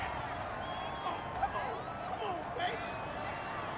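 Stadium crowd in the Madden 21 football video game reacts to a penalty call with a broad, steady murmur of displeasure, distant and diffuse, with scattered louder swells.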